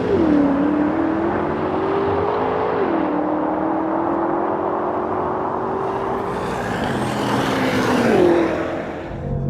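A Mercedes-AMG E63 S, BMW M5 and Audi RS5 drag race, with a loud, steady engine roar that rises and falls in pitch as the cars accelerate and shift, heard close and continuous without voices.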